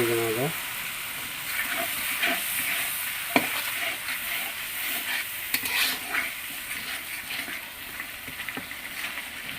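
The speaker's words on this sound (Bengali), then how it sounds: "এটা একটু হালকা করে কষিয়ে নেবো" Tengra fish with beans and tomato sautéing in a pan gives a continuous close sizzle, with occasional scrapes and clinks from a stirring spoon. A faint voice is briefly heard near the start.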